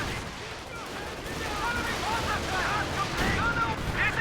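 In Company of Heroes 2, a dense stretch of battle gunshots and artillery fire rumbles and cracks, with distant booms blending into a continuous roar and a commentator's voice faintly woven through.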